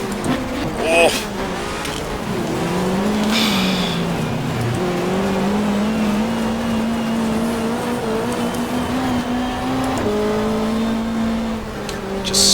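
A 1995 Super Touring race car at Lakeside circuit, engine droning and shifting pitch as the car swings round under braking, with tire noise, while a commentator talks over it.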